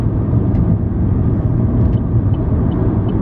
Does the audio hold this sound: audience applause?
no